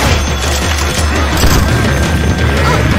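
Pipe bomb going off amid a horde of zombies in Left 4 Dead 2: a dense, continuous booming roar with crashing debris, loud and close, filling the whole stretch.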